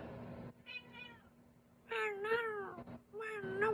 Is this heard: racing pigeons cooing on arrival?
no